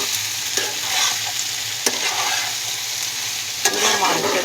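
Stolon (loti) curry sautéing in a pan makes a loud, close, steady sizzle, broken by a few sharp scrapes and knocks of the stirring spoon. No voices are heard.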